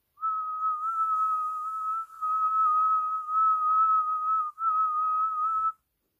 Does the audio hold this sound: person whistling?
yes